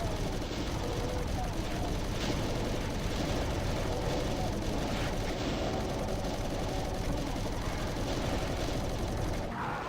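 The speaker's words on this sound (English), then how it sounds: "that chain gunner got me" Rapid chaingunner fire from a Doom enemy, a dense stream of gunshots running steadily through the whole stretch amid loud game noise.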